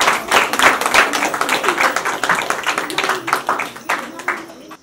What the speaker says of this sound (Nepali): हामी उहाँलाई पनि हामी ताली बजाइदिन्छौँ